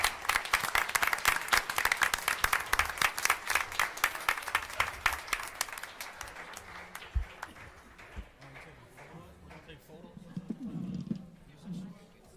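Dense applause from a crowd at a school board meeting, loud for several seconds, then thinning into scattered claps as murmuring voices take over.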